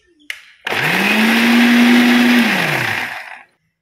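A kitchen blender runs one pulse on homemade mayonnaise. A short click comes first, then a loud, steady whir holds for about three seconds and winds down to silence.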